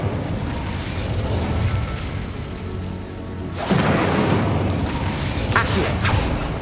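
A Confringo fire spell bursts in Hogwarts Legacy with a sharp crackling blast, giving way to a rumbling, sizzling burst and a few bright pops, loud and close.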